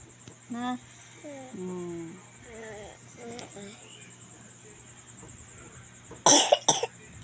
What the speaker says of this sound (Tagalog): Pag umuubo siya, parang dry dito niya.